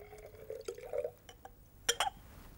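Sodium hydroxide solution poured into acid in a conical flask: small glassy clinks and liquid trickles, a couple of brief splashing pours and a sharper clink near the end, all faint and close.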